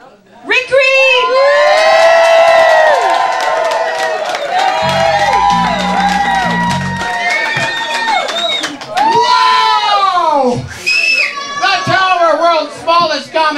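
A small comedy club audience cheers, whoops and shouts loudly and continuously for the host, with excited voices rising and falling throughout. A brief low hum sits underneath partway through.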